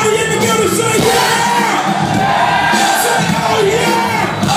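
A packed concert crowd at Paradiso in Amsterdam yells and cheers loudly without pause, a dense roar of many voices with whoops rising above it.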